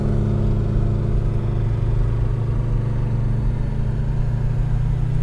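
A turbocharged Ecotec-engined Holden Commodore drones loudly at a roll racing event in Brisbane, a close, steady, throbbing engine note that holds through the whole stretch.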